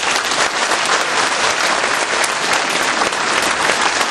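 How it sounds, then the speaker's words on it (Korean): A large audience at a Daegu–Gyeongbuk party rally applauds its candidates, a dense, loud wall of clapping that stays steady and close throughout. "우리 9분 우리 후보자를 위해서 박수 한번 보내주세요."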